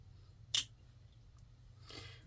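Scissors snip thread ends during stocking sewing, one crisp close cut followed later by a softer second snip against a quiet background hum.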